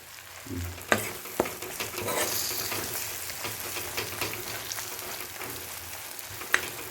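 Chicken gravy with coriander sizzles steadily in a pan while being stirred, with occasional sharp clicks of a spoon against the pan over the continuous frying hiss.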